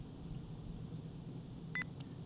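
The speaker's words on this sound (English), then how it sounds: "That beeped." Two short electronic beeps from a camping security alarm sensor sound in quick succession over a low background hum, the first slightly longer than the second.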